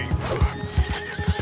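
A horse in the video game Red Dead Redemption 2 gives a neigh while its hooves clip-clop in a steady rhythm of several thuds, close and clear with no talk.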